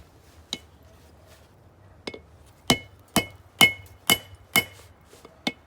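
Hammer half blows ring out over the edge of an anvil while wolf jaw tongs are forged: a few scattered strikes, then a quicker run of sharp, close metallic clangs, each with a short ringing tail.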